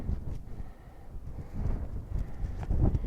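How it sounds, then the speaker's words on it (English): Strong wind howls and buffets across an exposed mountain-top ridge, a continuous low rumbling roar with gusty swells, loud and close against the microphone, with no talking. "The wind is really howling up here."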